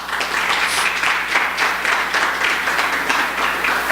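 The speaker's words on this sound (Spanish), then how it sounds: "¿por qué no le das un aplauso a Dios?" Steady applause from a large crowd, dense even clapping filling the room from start to finish.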